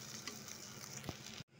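Soybean chunks sizzle and crackle in hot oil in a pan, a continuous bright frying hiss with a soft clack near the end before a sudden cutoff.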